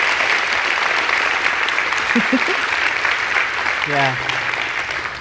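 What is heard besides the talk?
round of applause for the church staff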